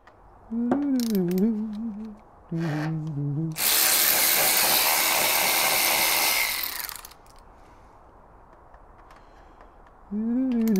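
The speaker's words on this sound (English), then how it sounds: "there's a fuel pump running." Fuel pump on a Suzuki Hayabusa non-runner priming with a steady, loud hiss-like whir for about three seconds, between stretches of tonal whining and quieter workshop background.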